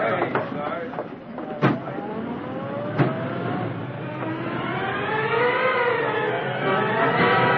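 Radio drama cars start up and drive off in pursuit, engines rising in pitch with a siren-like whine, loud and close, with brief sharp knocks early on.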